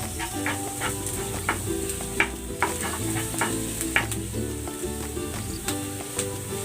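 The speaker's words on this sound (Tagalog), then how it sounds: "Igigisa ko na rin tong sibuyas. Lagay na rin natin tong chorizo." Onion and chorizo sauté in a pan for fried rice, a continuous close sizzle with regular scraping and stirring strokes of a utensil against the pan.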